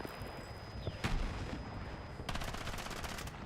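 Turret gunfire in a video game, a dense burst of rapid shots and a heavy boom, then a fast rattling stream of fire near and loud, with no talk.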